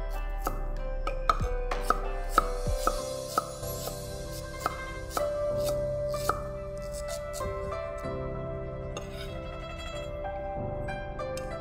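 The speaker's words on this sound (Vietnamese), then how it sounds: "Rồi cắt gừng ha." A knife chops fresh ginger on a cutting board for a Teochew steamed fish, with sharp, irregular taps that come fast at first, then slow and fade under steady kitchen background tones.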